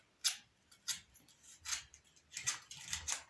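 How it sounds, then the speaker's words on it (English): Scissors snip through a plastic bottle to shape a flower, giving several close, crisp cuts spaced irregularly with quiet gaps between them and no talking. "then you take a scissors and do it like this"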